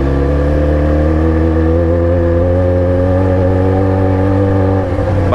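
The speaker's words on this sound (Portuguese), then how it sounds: "Que era vir um dia pra praia com a minha XJ" A Yamaha XJ6 motorcycle ridden near the beach, its engine holding a loud, steady, close drone at constant revs with a slight shift near the end and no voices.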